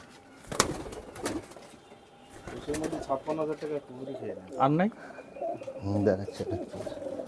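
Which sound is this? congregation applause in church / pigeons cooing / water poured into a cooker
pigeons cooing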